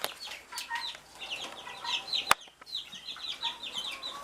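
Chickens cluck repeatedly in an outdoor chicken yard kept for meat and egg production, a steady run of overlapping chirpy calls with one sharp knock partway through and no talking.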